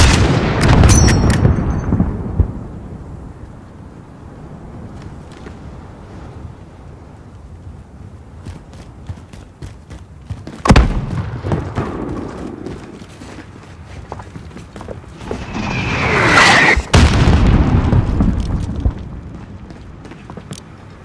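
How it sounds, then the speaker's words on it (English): Combat from Call of Duty: Modern Warfare (2019) in a desert highway battle: distant mortar thumps and explosions boom at intervals, mixed with footsteps, gunfire and a swelling roar of battle noise. "There's still a mortar out there."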